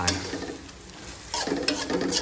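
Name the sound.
stir-frying squid with roasted chili paste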